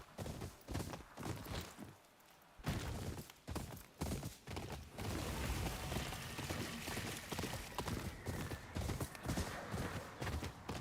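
Horse hooves in the video game Ghost of Yotei clop along in a steady rhythm, close and fairly loud, with a brief lull before the gait picks up again over game ambience.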